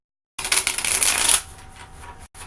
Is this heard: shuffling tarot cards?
yes